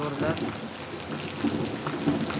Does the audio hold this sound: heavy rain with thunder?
yes